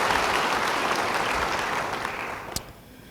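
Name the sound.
church congregation applause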